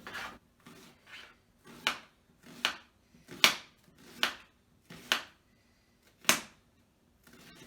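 A knife cutting and slicing an onion, about nine crisp separate cuts in an uneven rhythm, close and fairly quiet with near silence between strokes.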